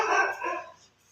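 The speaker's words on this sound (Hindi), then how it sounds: "और ये भाई कुत्ते यहाँ भौंक रहे हैं अलग अलग" Street dogs barking and fighting in a lane at night, a short burst of sharp, overlapping yelps and barks at moderate distance that fades out within a second.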